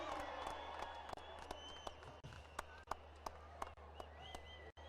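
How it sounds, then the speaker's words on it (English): A crowd in the stands at a celebrity cricket match gives faint, distant applause and cheering, with a run of sharp, clap-like bursts. "There's obviously going to be a cheer in the stands whenever you step up."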